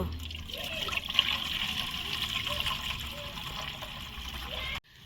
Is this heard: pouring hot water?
yes